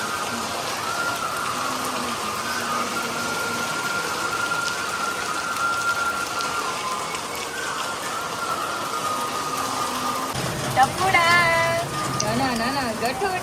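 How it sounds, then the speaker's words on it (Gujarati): Heavy rain pours down in a dense, constant hiss of drops striking surfaces close by, with faint voice-like tones rising briefly near the end. "તમે જોઈ શકો છો એવો વરસાદ પડી રહ્યો છે."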